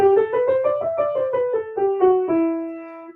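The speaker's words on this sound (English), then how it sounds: "So if we play E natural minor where we don't change anything," A single melodic instrument plays an E natural minor scale note by note in an even stepwise run, clear and close, ending on a sustained held note with no voices.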